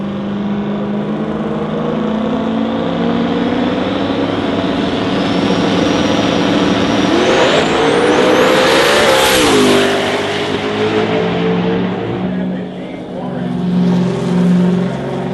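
X-275 drag race car at a shootout, engine roaring loudly with rising revs as torque overwhelms the rear tires, pitch climbing then dropping, with an announcer talking over the din.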